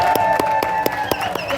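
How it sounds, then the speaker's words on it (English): Scattered clapping from a small crowd at a No Kings protest rally in Cookeville, Tennessee, with sharp separate hand claps in an uneven rhythm and a sustained tone lingering underneath. "Please give a big round of applause for the Putnam County Democratic Party"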